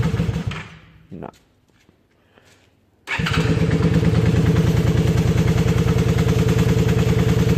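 A motorcycle engine running roughly on one cylinder with little fuel after a starter attempt: a brief sputter, a pause, then the engine catches and chugs loudly and unevenly up close. A voice is heard near the start.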